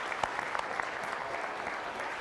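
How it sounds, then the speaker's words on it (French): Conference audience at Toulouse applauding, a dense steady patter of many hands clapping at moderate distance throughout. "très content de vos applaudissements"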